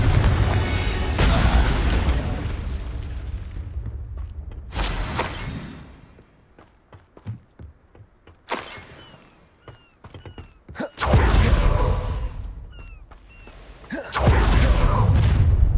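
Explosive bursts from the Confringo fire spell in Hogwarts Legacy, several loud booming blasts with crackling debris between quieter stretches of footsteps and small impacts.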